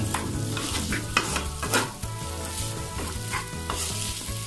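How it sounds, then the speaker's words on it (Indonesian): Kluwak fried rice stir-fried in a pan, with continuous loud sizzling and repeated scraping, pressing strokes of a spatula turning the rice, close up with no talking. "dibolak-balik sambil sekali-sekali agak dipenyet-penyet gini biar yang masih putih-putih ini kecampur rata sama yang udah kena bumbu"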